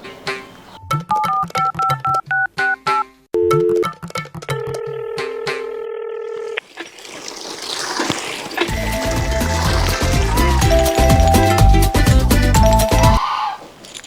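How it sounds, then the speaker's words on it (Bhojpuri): A phone keypad sounds a quick run of short, clear dialing beeps, loud and close, followed by a longer steady tone before busier noise takes over. "रुक रुक तनी हम अपन मेहरारू के फोन कर लेतानी"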